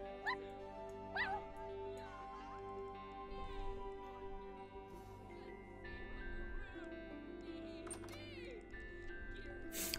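Pet dog in The Sims 4, heard as small whimpers and yips set against steady game music and ambient effects, moderately loud throughout.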